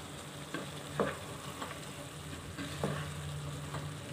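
Bottle gourd pieces frying in a pan with a little salt added, stirred so a steady low sizzle runs throughout, broken by a handful of soft scraping strokes of the spoon at irregular intervals.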